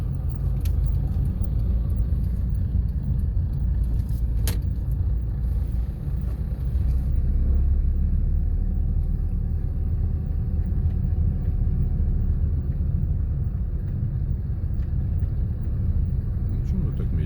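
Heard from inside, a car creeps slowly through town during a driving lesson, giving a steady low engine rumble and road noise throughout with a few faint clicks.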